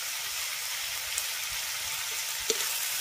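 Flower pieces frying in oil with turmeric and salt in a Bengali village kitchen, a steady soft sizzle with a few faint clicks of stirring, no talking.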